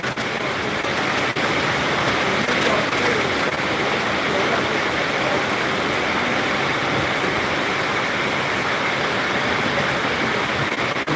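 Strong rushing water roars steadily and loudly throughout, a dense unbroken wash of noise close by, with no voices.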